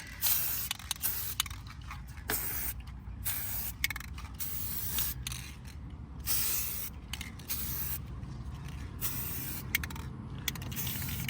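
Aerosol paint sprayed onto Challenger Brembo brake calipers outdoors, hissing in repeated bursts of varying length separated by short pauses, with faint clicks and scrapes between passes, close and fairly loud, no talk.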